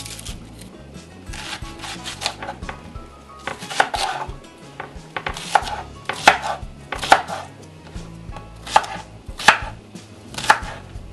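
A knife chops an onion on a board in a series of crisp, close knocks that grow louder and more regular over time, with no talking.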